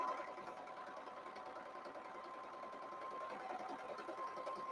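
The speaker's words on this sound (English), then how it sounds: "The serger is a gem for this type of work, for the sweatshirts." A serger sewing machine hums quietly and steadily as it stitches a sweatshirt, running continuously at low volume without pause.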